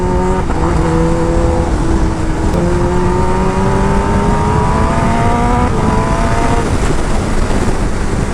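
A motorcycle speeding along a highway, its loud engine drone rising and falling in pitch through gear changes, with heavy wind rush throughout and no talking.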